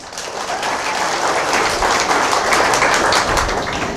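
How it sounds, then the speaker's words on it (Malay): An audience at an Elken event in Kota Kinabalu breaks into sustained applause, a dense wash of many hands clapping at steady loudness for several seconds. "Tepukan kepada Elken."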